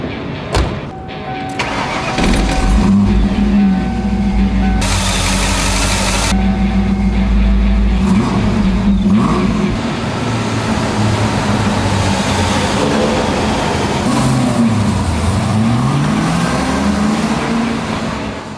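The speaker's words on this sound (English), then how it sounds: "Today, we take a look at the exhaust on your 94-95 5-liter." A 1994-95 Ford Mustang with a 5.0L V8 cranks and fires up, then settles into a loud, rumbling idle through its exhaust, with a few throttle blips rising and falling near the end.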